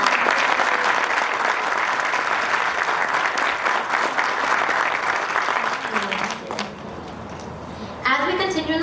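Audience applause at a class of 2021 middle school graduation ceremony, steady and dense for about six seconds, then thinning with a brief burst of voices and clapping near the end.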